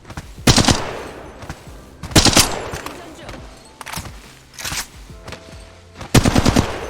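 Bursts of automatic gunfire in a shooter video game while bunny hopping, several loud rapid volleys spaced a second or two apart, with someone talking over them.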